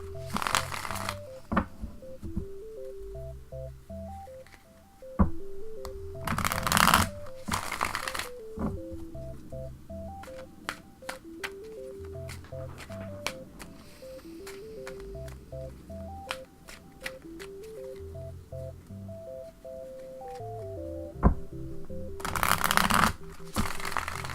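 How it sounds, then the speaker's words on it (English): A deck of tarot cards shuffled by hand over and over, close, steady riffling and flicking in repeated bursts with brief louder slaps, while a soft tonal melody plays quietly underneath. "Okay, I gotta make sure they're all shuffled up."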